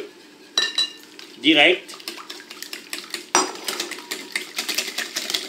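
Brownie batter with eggs being stirred in a pot, heard as scattered clinks and scrapes of a utensil against the metal pot, with one sharper ringing knock, while a voice speaks briefly.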